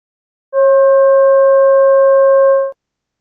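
Sonified ultrasound velocity data from unaltered porous limestone: a clean, steady electronic tone with a few harmonics, sustained for about two seconds with a smooth fade at the end, heard alone.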